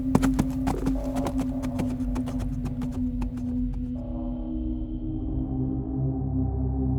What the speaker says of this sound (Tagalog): Kaagad ko ngang pinatakbo ang kabayo palayo sa lugar na yon.